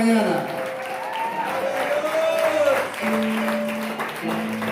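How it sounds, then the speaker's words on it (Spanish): A church congregation claps during a Spanish-language service, steady applause running through the whole moment while a voice sings or speaks over it, with sustained tones above the clapping. "Denle un aplauso al Señor esta mañana."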